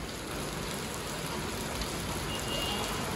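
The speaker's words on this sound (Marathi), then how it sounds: "गोव्यामध्ये मुसळधार पाऊस चालू झालेला" Heavy monsoon rain in Goa pours down as a constant, soft, even hiss, with no voices.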